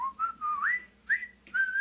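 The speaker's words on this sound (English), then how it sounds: "I like how the sound of the whistle was just" A whistle blown in the GameCube Resident Evil game gives three rising, warbling tones, each breaking off briefly before the next starts, clear and close with no voices.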